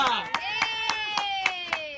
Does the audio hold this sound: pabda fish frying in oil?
no